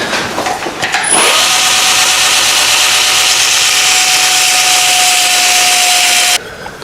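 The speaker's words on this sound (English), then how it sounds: "So we'll just take a little bit off on the linisher." A linisher belt sander grinds a metal part for a Hustler Badboy mini chopper, a steady loud abrasive whine that starts after a second and runs evenly for about five seconds before cutting off.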